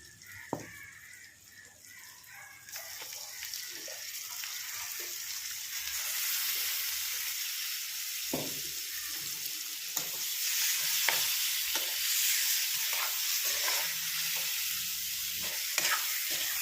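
Pork frying in a pan with crushed garlic and green chilli sizzles steadily, the hiss growing over time while a utensil stirs and scrapes now and then.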